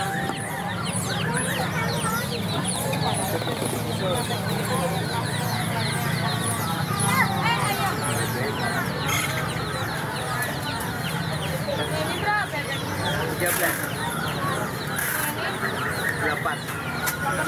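Chickens cluck and squawk among caged fowl at a street pet market, with a nearby rooster call, while people talk and bargain over the busy stall chatter.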